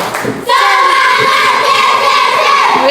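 A fifth-grade primary school class does the 'tepuk semangat' clapping chant, children's voices and rhythmic hand claps bursting in loudly together and sustaining as a lively group shout-and-clap.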